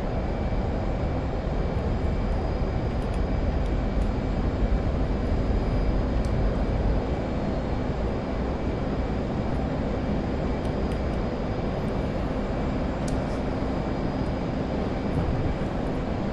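An F/A-18 jet in the DCS flight simulator rolls for takeoff, giving a steady, loud, broadband engine roar that holds evenly throughout with no voices.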